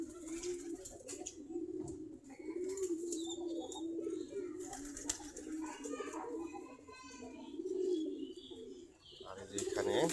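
Native Giribaz pigeons coo in a low, continuous murmur near their loft as they gather to drink and peck at feed, with brief higher chirps and occasional rustles over the steady cooing.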